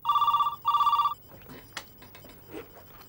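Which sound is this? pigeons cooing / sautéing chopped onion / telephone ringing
telephone ringing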